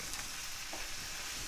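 Chopped heirloom tomato mixture is tossed in a hot frying pan, a short faint burst of hissing sizzle with a light shuffle as the pan is flipped, heard alone.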